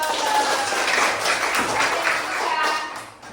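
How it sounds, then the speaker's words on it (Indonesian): Fourth-grade children in a classroom clap together in a dense burst of applause that stays steady for about three seconds before tapering off. "Tepuk tangan yuk."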